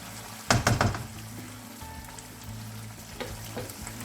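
Black pepper chicken sizzles on low heat, opening with a brief burst of loud clattering stirs before settling into a steady, moderate frying hiss.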